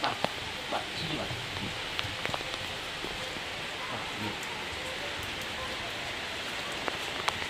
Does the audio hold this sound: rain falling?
yes